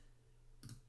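A single quiet computer mouse click, short and sharp, over a faint steady background hum.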